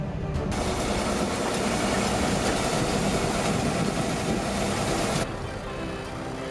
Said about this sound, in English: We tried pulling it out with a tractor.